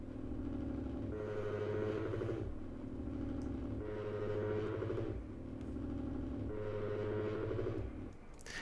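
Sci-fi vibrating, resonating drone built for the short film trailer "Transcend": a low, rumbling, engine-like pulse that swells and recedes in slow repeating waves, steady and fairly quiet with no voices.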